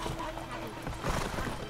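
A horse in The Witcher 3 gives a whinny over a run of clip-clopping hooves, loud and close, with a voice talking over the mix.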